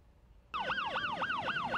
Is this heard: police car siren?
yes